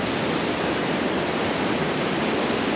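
Atlantic surf breaking against lava rock flows on Tenerife, heard as a steady, dense, full-band wash of rushing water that stays loud and even throughout, with no voices.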